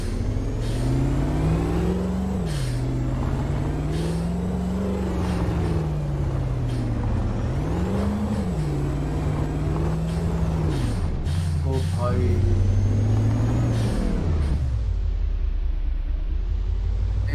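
A Nissan Warrior 2017 truck driving in Euro Truck Simulator 2 on the Project Japan map, its engine droning steadily and repeatedly revving up and dropping back through gear changes, close and loud, with a brief hiss near the end.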